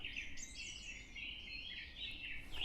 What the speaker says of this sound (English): I love the sound of that bird. It's so beautiful. And they sing for so long.